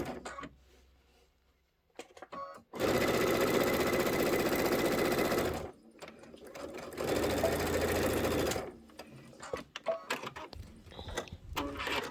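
A sewing machine with its embroidery arm still attached runs in two long, loud, steady bursts of stitching, with quieter handling noises before, between and after.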